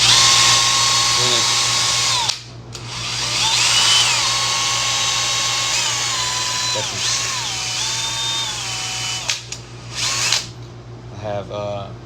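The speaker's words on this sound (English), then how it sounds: "the easiest way to sand the ramrod is with a drill" A power drill whines steadily as it spins a ramrod for sanding with steel wool, loud and close, pitch dipping briefly under load and then carrying on, with a short pause midway and a voice speaking over it near the end.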